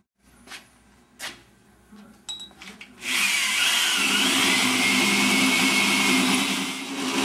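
A power-driven hole saw cuts into a metal tube for a cope joint, starting with a few knocks and brief handling sounds, then a loud, steady grinding whine that holds for several seconds.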